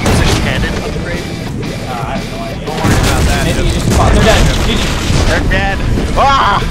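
Cannon fire from a pirate ship battle in Blazing Sails, heavy booms and rumbling blasts running continuously under excited shouting voices throughout.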